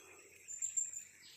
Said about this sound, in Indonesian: burung yang lain datang lagi